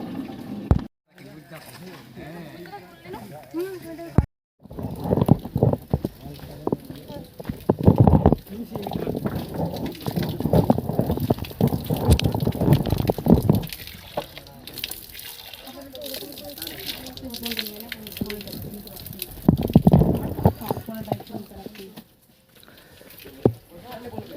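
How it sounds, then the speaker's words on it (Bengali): The Jamdhara waterfall at Shushunia hill rushes steadily in the background while someone talks at length over it, with occasional knocks and brief pauses as he moves. "তো বন্ধুরা এই ঝর্নার সামনে কিন্তু পৌঁছে গেছি"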